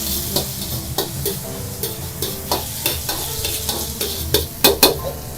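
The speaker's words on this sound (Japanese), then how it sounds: "ここに醤を加えていきます。" Chili bean sauce and dried chilies stir-fried in a pan over low heat, sharp rhythmic spatula scrapes and taps cutting through a constant close sizzle, with louder strikes near the end.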